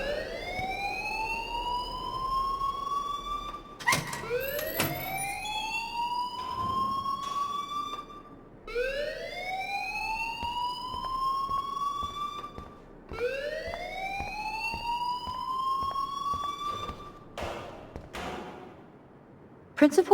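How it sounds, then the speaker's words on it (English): A fire alarm rings through a school hallway in the Life is Strange video game, sounding as a loud repeating rising electronic whoop, about four sweeps with short gaps and sharp clatters between them, continuing steadily throughout. "please turn off that alarm since that's your job"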